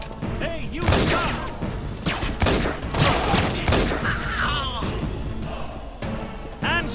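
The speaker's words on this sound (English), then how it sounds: "Shots." Rapid bursts of video-game gunfire ring out during a combat fight in a monastery level, loud and continuous, with voices shouting over the shots.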